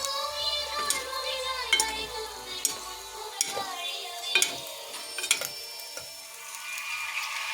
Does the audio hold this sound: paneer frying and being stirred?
yes